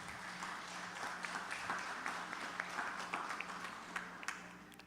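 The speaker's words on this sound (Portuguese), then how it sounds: "uma salva de palmas para essas mulheres maravilhosas" An audience at a talk applauds the women present, with steady moderate clapping from many hands and a few louder claps standing out near the end.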